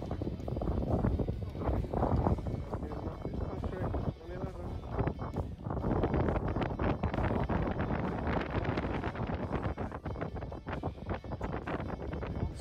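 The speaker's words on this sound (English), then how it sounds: "Super windy today." Strong gusty wind buffeting the microphone outdoors at St Andrews during The Open golf championship, a loud continuous low rumble with bursts throughout, with a voice speaking over it.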